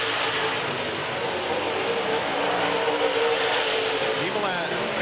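Race cars lap a small speedway oval in a steady, loud, continuous engine roar with a rise near the end, while a commentator's voice runs over it throughout.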